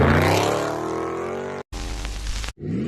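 A Dodge car's engine revs and rises in pitch while the car drifts. The sound is loud and close and cuts out abruptly twice before the revving returns.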